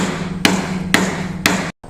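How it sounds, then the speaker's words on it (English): Three sharp hammer whacks drive a short PVC piece into a 1/2 inch PVC elbow, evenly spaced about half a second apart, close and loud over a steady low hum. "Now whack that into your 1/2 inch PVC elbow."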